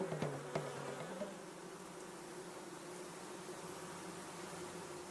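A honeybee queen flies back to the hive, a soft, steady insect buzz that holds faintly throughout, with a couple of brief knocks at the start.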